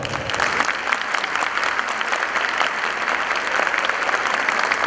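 A conference audience applauds speakers as they come up to the stage for a closing talk, an even, sustained patter of many hands at moderate volume with no voices.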